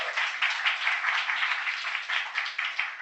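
An audience at a talk claps together in a dense, even round of applause that carries on for about three seconds, heard somewhat faint and filtered.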